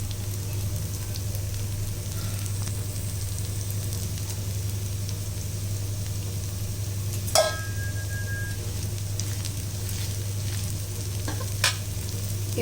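A dosa cooks on a pan with oil drizzled around its edge, a soft, steady sizzle under a constant low hum. Two brief sharp clicks or scrapes stand out partway through.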